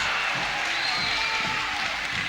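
A crowd at a fight event for fighter Evan Themelakis, a dense, steady roar of cheering and clapping, continuous and fairly loud, with a voice speaking over it.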